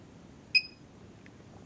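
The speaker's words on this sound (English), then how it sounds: "So we should hear a beep here when I connect the positive." Near-silence with a faint low hum, then a 2000 Lexus LX470 engine cranks and catches abruptly, settling into a steady idle with a brief bump in revs near the end.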